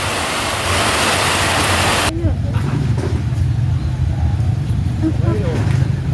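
Heavy rain pours down in Los Baños, a dense, loud broadband hiss that stays steady throughout and sounds close, with an abrupt shift in texture partway through, and voices are briefly audible beneath it.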